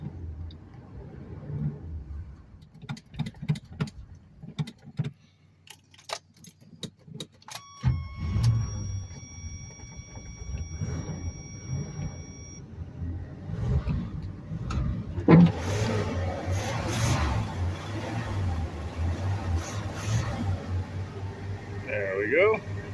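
A 1985 Suburban's carbureted engine, primed with fuel poured into the carburetor, catches and runs with a rough, steady rumble after sputtering starts, loud and close, with voices talking nearby.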